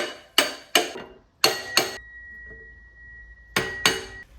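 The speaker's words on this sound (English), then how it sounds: "Now I'm just going to use the pickle fork and a hammer to set it into place." Metal-on-metal hammer strikes on a pickle fork while seating the alternator on a 2014 Toyota Camry 2.5L four-cylinder, six sharp ringing taps in two quick pairs plus a later pair, with a lingering metallic ring after one pair, close and clear, no talking.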